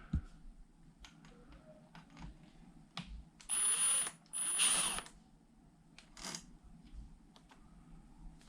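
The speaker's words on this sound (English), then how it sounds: "We can just remove these 2 screws." Screws being removed from the throttle on a Vsett 10+ electric scooter, scattered small clicks and taps with two short bursts of whirring ratchet-like screwdriver sound, close and fairly quiet.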